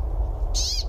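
A brambling gives a single drawn-out nasal wheezing call, loud and close, with no talking around it.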